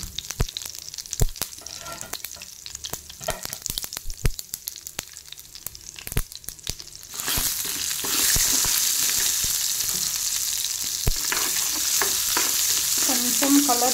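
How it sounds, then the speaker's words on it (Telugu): Mustard seeds and a pinch of asafoetida fry in hot oil in a pan. Sparse pops and stirring scrapes come first, then a steady, close sizzle that swells and holds. "ఇవన్నీ కొంచెం ఫ్రై అయ్యే వరకు వేపుకోవాలన్నమాట"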